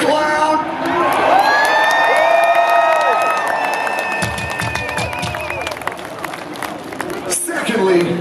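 A huge festival crowd at the Download Festival main stage cheers, screams and whoops loudly and continuously, with a brief dip before the roar swells again.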